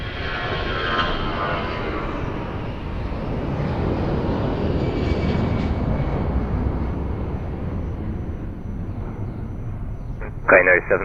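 Fixed-wing airliner on short final for landing at Lisbon Airport, a steady broad engine roar held throughout at moderate distance, with a brief clatter near the end.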